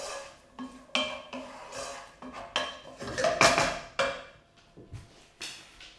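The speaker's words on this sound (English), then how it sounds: "Give it a wee stir so that the onion's all coated" Chopped onion being stirred in hot oil in a pan, with a utensil knocking and scraping against the pan in a run of uneven, close clinks and clatters; no voices.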